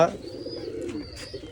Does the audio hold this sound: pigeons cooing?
yes